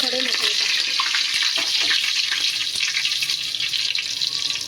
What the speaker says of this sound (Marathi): हे बघा, तेल तापलंय ना, मी याच्यात हे थोडे सुके मसाले,